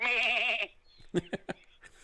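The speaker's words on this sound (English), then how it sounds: "I need to play chicken sounds and goat sounds." A goat bleating sound effect plays, a loud, wavering, nasal cry lasting about half a second, followed by a few short clattering noises.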